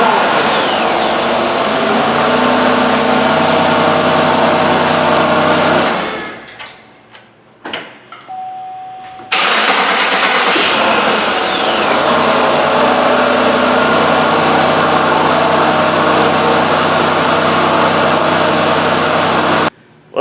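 A Pontiac Torrent with a newly replaced starter fires up: a loud running noise stops, then after a brief quiet gap with small clicks the engine catches abruptly and settles into a steady, strong idle that continues almost to the end.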